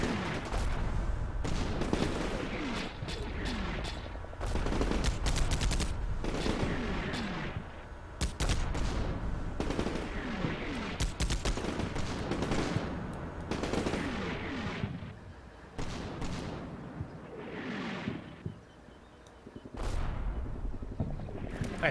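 Heavy 155mm artillery shells strike repeatedly in the war game Combat Mission: Shock Force, a dense run of booming impacts and crackling gunfire-like bursts lasting throughout, loud and continuous with brief lulls.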